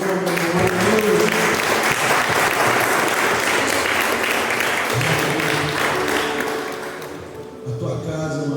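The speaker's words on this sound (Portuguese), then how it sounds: "Você pode aplaudir ao Senhor" A church congregation at a family worship service claps for the Lord in loud, sustained applause with voices and music mixed in, thinning out toward the end.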